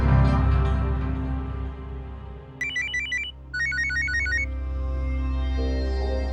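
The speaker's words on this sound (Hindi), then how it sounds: "गुरमीत का फोन।" A telephone ringtone sounds in two short bursts of bright, rapidly repeating electronic tones, heard clearly over a sustained musical drone from a TV drama soundtrack.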